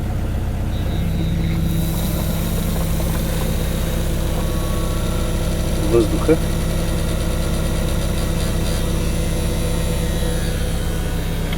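A small pump motor pushing water through a hydrogen (HHO) cell hums steadily at a low pitch throughout, with a brief spoken word partway through.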